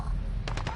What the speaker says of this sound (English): Bullets go right through my shield, eh?